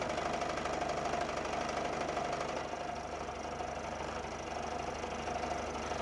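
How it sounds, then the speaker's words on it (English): End mill taking a climb-cut finishing pass along a shoulder rebate on a machine in a home workshop, a steady mid-pitched machining hum with a constant mechanical drone, close and unbroken, no voices. "I finish off this shoulder rebate with a climb cut pass, and that went quite well."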